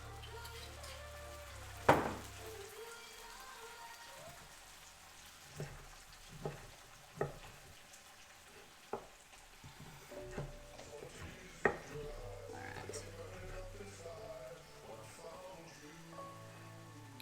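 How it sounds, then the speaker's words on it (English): White wine added to onions frying in a pan: a soft, steady sizzle with several sharp taps and clinks spread throughout, close but quiet. "to the onions, I'm going to add a little bit of white wine"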